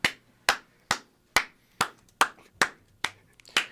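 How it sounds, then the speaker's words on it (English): Single sharp claps ring out one by one at a slow, steady pace, about nine of them, each crisp and close with a short decay. "Let's get a round of applause for me."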